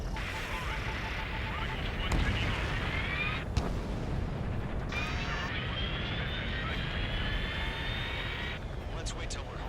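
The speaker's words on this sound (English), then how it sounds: "Former President Harling's transport is ready to take off." Jet engines roar steadily as a transport aircraft takes off in the video game Ace Combat 7, a loud continuous rush with rising whine tones throughout.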